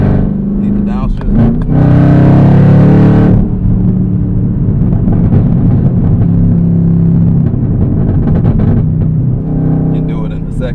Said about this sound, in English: I'm going to downshift in the 3rd. Downshift rev match.